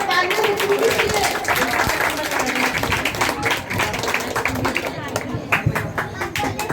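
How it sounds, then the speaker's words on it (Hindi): Loud applause from a crowd at an Independence Day celebration, steady clapping throughout with voices mixed in underneath. "जोरदार तालियां"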